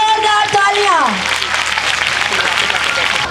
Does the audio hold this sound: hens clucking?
no